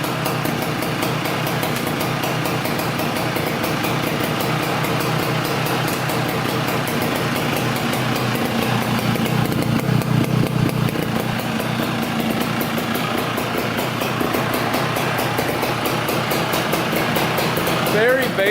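A Beta 270 dirt bike engine runs steadily at a fast idle, a loud, continuous buzzing putter close by that swells slightly midway, with no gas tank fitted.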